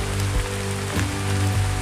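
Steady rain falls on surfaces outdoors near a royal grave site in the Kei Islands, a dense continuous hiss with a low rumbling undertone, close and even throughout, with no talking.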